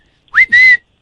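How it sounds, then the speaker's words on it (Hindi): A loud, close whistle blown twice in quick succession, a short rising chirp followed by a longer steady shrill tone, heard alone with silence around it. "आगे से बार बार सीटी परेशान कर रखा है?"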